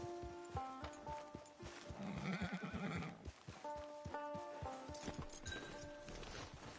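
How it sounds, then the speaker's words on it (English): A horse in the Western video game Red Dead Online neighs loudly in the middle while its hooves clip-clop in a steady, close walking rhythm. "Get your horse."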